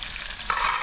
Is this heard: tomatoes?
yes